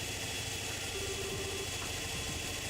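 A noisy machine engine in Trails in the Sky FC, running loud and steady after being switched on, a constant droning rumble with a faint whine on top.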